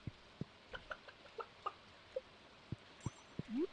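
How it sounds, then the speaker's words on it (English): Clucking chicken in the Stardew Valley farming game: a series of short, soft clucks in an irregular rhythm, fairly faint and close, with no talking over them. "Also, I still love the chicken named Bob."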